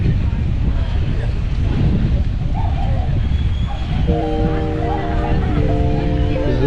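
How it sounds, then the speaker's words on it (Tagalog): Wind gusts across the microphone at a busy seaside baywalk in Puerto Princesa, Palawan, a steady loud rumbling roar throughout, with faint crowd murmur and a brief tonal chime-like melody near the end. "Lamig ang hangin, ang weather dito windy."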